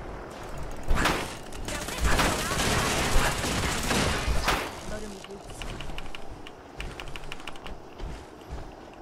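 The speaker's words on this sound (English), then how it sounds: "Why he's shooting at my vertibird." Rapid gunfire aimed at a vertibird in the video game Fallout 4, dense crackling bursts for several seconds that thin into scattered shots and mechanical clicks toward the end, loud and close.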